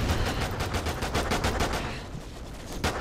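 Rapid automatic gunfire in the video game Call of Duty: Ghosts Extinction, a loud sustained burst of evenly spaced shots that thins out and then resumes briefly.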